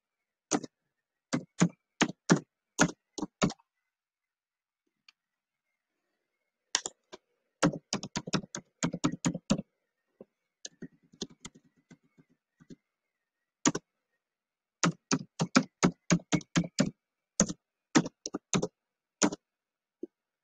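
Light computer-keyboard typing comes in quick bursts of crisp clicks separated by pauses, fairly quiet and close, with no talking.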